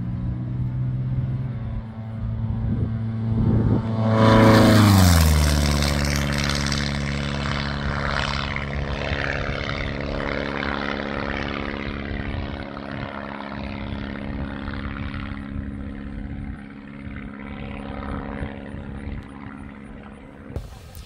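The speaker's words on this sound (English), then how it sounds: "there were some pilots that came in and just did a high-speed pass, beat up the runway" A Long-EZ canard aircraft makes a high-speed low pass over a runway, its propeller drone swelling to a loud peak as it passes close, then dropping in pitch and fading into a long receding rumble.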